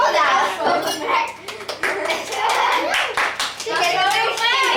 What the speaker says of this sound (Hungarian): Azt tapsot kérjük